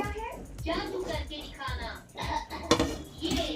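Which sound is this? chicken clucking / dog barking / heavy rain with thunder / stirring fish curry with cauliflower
stirring fish curry with cauliflower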